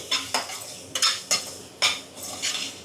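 A spoon stirs mutton keema in a metal pan with repeated scraping strokes, about eight close, distinct passes with light sizzling in the background. No one speaks.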